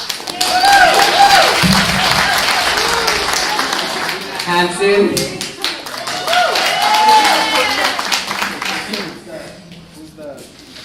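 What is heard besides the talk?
audience applause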